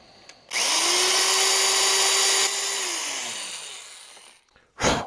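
A power drill spins up sharply, whines at a steady pitch while boring into a rusted Wilton Bullet vise for a couple of seconds, then winds down, followed by a brief clunk.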